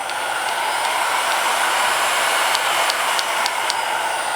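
A Wagner HT4500 heat gun running on a raised setting gives a steady, loud, close airy roar with no talk over it.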